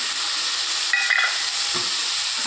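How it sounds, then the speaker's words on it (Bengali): Chopped tomatoes hitting a pan of fried onions and chillies give a steady, close sizzling hiss, with a brief light clink of the stirring utensil partway through; no one speaks. "টমেটোগুলো দিয়ে এবার ভালো করে ভেজে নেব।"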